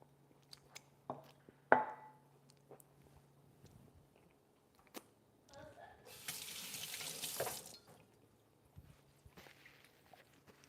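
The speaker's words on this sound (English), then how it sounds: "I just washed my hands there" Hands washed under a running tap at a kitchen sink, a short loud gush of water for about a second and a half amid quiet clinks and kitchen handling noises, with no speech.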